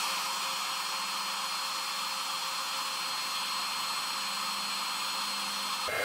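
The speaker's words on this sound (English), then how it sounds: "I'm going to bring in my heat tool, cover up my ink pad, and we'll get this melted for you." A craft heat tool blows steadily while melting embossing powder over a stamped paper design, a constant close, airy hum and whir that cuts off abruptly at the end.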